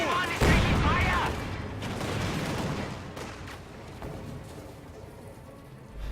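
Gunfire crackles through a real-time strategy battle as a squad takes fire, a loud burst up front easing into a steady spread of shots and blasts over the remaining seconds.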